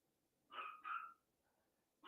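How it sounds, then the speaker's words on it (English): A single dog barks faintly in the background, two quick barks followed by another after a pause, distant and quiet. "Now I got a dog barking in the background."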